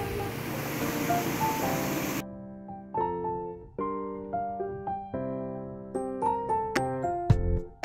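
A river beside a villa in Karawang rushes in a steady broadband wash for about two seconds, then gives way abruptly to plucked instrumental music.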